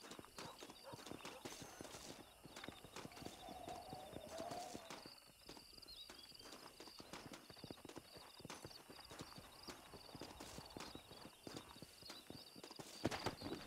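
Steady clip-clop of horse hooves trotting in the video game Red Dead Redemption, with an occasional whinny and voices talking over the top throughout.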